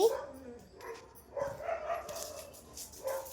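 Dogs barking outdoors at a distance while a family cooks puri and chutney on a Sunday morning, a few faint scattered barks and yips mixed with people talking nearby.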